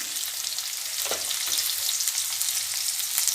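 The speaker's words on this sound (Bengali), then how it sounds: "নুন হলুদ দিয়ে আলুটা ভেজে নেব" Potatoes fry in a pan with salt and turmeric, making a bright, steady hiss of sizzling oil up close with a soft stirring bump partway through.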